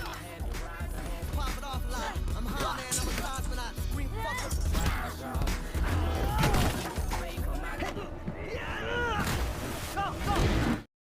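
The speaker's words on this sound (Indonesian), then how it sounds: "Selanjutnya mereka menaiki speedboat." Speedboat escape in a film: a loud surging boat engine with splashing water and crashing hits, layered under film music and shouting voices throughout.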